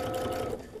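Domestic sewing machine stitching a half-inch seam on a baby quilt, a brief close mechanical whir with a rapid needle rhythm.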